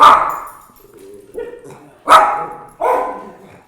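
A dog barks three times, loud and close, with short gaps between the barks and a quieter whine or growl in the middle.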